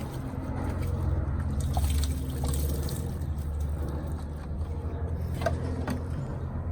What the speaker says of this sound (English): And we can just put the rest of the solution